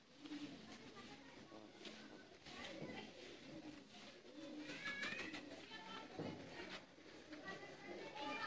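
Teddy pigeons coo in soft, repeated throaty calls among other birdsong at a pigeon-keeping loft, with voices talking over the steady background.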